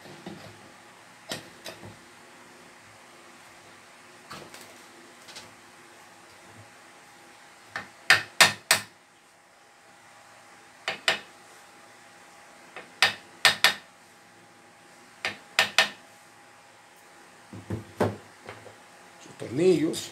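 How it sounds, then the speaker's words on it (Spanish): A front cover being fitted by hand onto a 1/2 hp water pump gives scattered light clicks and knocks of plastic or metal parts, several sharp taps in small clusters, close and fairly quiet, with no talking. "voy a proceder a colocarle su tapa frontal"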